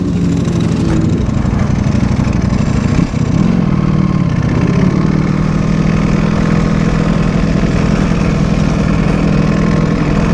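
A Ducati Panigale V4 R motorcycle idles at an Aprilia track day, giving a steady, loud, close engine rumble that holds throughout with little variation and no talk.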